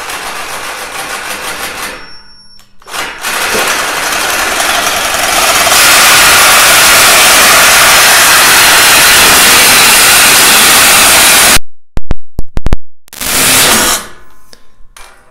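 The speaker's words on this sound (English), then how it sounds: "got one side cut with the sawzall" A reciprocating saw cuts through a plastic IBC tote with a loud, harsh, continuous buzzing roar lasting several seconds. It stops abruptly, then a couple of short bursts follow before it fades.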